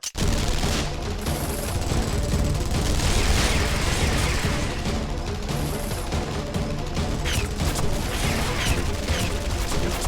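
Sustained gunfire in a Guilty Gear Strive story mode scene, loud rapid volleys of automatic shots pouring continuously for the whole stretch, with booming impacts and clattering mechanisms mixed in and no voices.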